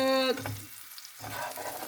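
Sausage and bell peppers fry plainly in a pan, giving a steady close sizzle with a brief tonal tone at the start. The frying dips into a short lull, then crackles again with no talk.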